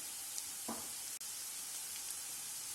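Chopped garlic with a pinch of salt frying in a pan gives a steady, even sizzling hiss throughout, close and moderately loud, with one faint clink partway through and no talking.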